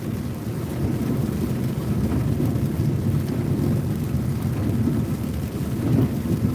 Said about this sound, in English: Yeah, of course it's raining.